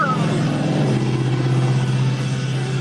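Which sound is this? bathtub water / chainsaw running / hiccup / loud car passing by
loud car passing by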